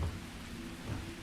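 Steady rain in the Starfield video game, a continuous broad wash with low rumbling underneath, heard alone at moderate level.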